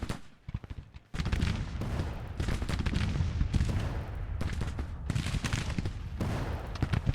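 Massed musket and rifle fire from Civil War brigades battling around a hill in spring 1861, in a strategy game: a dense, continuous crackle of volleys that erupts after a brief quieter opening and keeps rolling.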